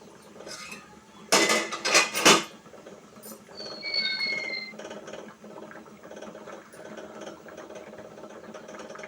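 A few sharp metallic clanks as a bowl is set inside a pot of water and a lid is placed on for steaming, followed by a low, steady hum.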